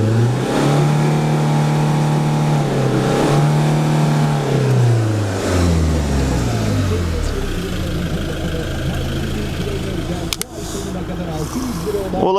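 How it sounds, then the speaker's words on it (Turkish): A 2014 Fiat Ducato long-chassis van with a 2.3-litre 130 hp engine is revved repeatedly from idle, rising and falling pitch sweeps close to the microphone, ending in a sharp clunk and settled idle. "Siz bakın ben gaza basayım."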